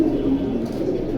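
Close, continuous low cooing from pigeons offered for sale in a market, a soft throaty warble with no voices over it.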